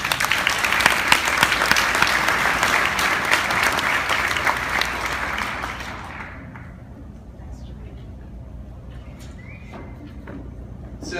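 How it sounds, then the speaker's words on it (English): An audience at a social media conference event applauds loudly for Jeff Graham, a dense sustained clapping that fades out after about six seconds into quiet room tone. "Please give a round of applause to Jeff Graham."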